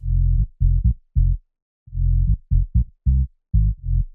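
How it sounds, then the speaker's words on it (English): Sub bass from a filtered saw wave preset for minimal house plays alone, a groovy pattern of deep, rounded low notes, some held and some clipped short, with brief pauses between phrases. "There is a sub bass which sounds like this."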